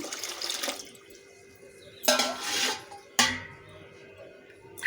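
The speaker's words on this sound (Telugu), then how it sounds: "రెండు గ్లాసులు నీళ్ళు పోస్తున్నాను" Water is poured into a pot of moong dal for dal khichdi in two short splashing pours, the second starting abruptly, with quiet kitchen background between them.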